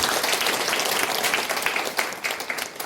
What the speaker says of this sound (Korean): 모든 선조들을 위해서 박수 한번 부탁드리겠습니다